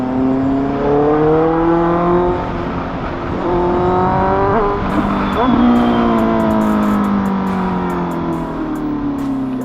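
A Honda CBR motorcycle fitted with an SC Project exhaust rides past, its engine note rising and falling through repeated revs and gear changes. The loud, raspy drone runs continuously throughout.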